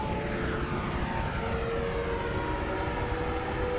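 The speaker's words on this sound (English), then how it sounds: "When you go really fast, you make a sound like a jet engine." A steady, loud jet-engine roar from a character moving at high speed in the video game Noita, holding a continuous droning whine with tonal hum throughout, with no talking.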